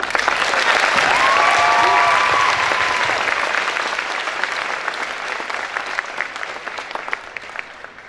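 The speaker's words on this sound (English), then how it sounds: "Let's give her a big applause" Loud, sustained applause from a crowd at a high school military signing day, with faint voices or whistles briefly rising above it, the clapping slowly fading over about eight seconds.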